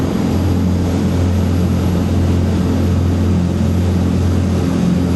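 A 48-foot Swift Trawler's engine runs steadily at 2,600 RPM, a loud, continuous low droning roar with strong low-end hum and broadband rushing noise throughout.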